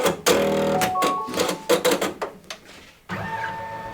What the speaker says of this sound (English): Okay, so the first thing it's going to do the placement stitch.